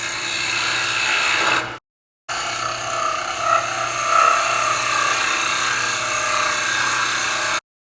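A wooden bowl lid spins on a lathe as the tool takes cuts, giving a loud, continuous rasping hiss broken by one brief silent pause and ending abruptly.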